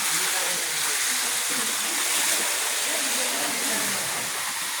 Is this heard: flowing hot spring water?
yes